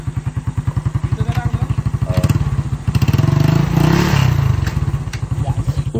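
Motorcycle engine idling after being kick-started in a rural province, a fast even thumping putter, loud and close, briefly swelling louder in the middle with some clatter before settling back to a steady idle.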